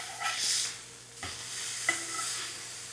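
Ground beef sears in a hot pan for a chopped cheese, giving a steady close sizzle with a few scraping stirs and clicks of a utensil, no voices over it.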